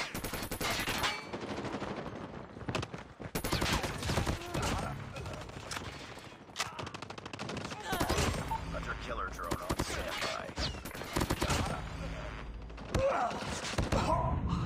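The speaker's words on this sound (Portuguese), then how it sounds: "tô dando tiro, pô" Rapid bursts of automatic gunfire in Call of Duty Mobile crackle repeatedly with loud sharp shots and brief pauses, with a voice occasionally speaking underneath.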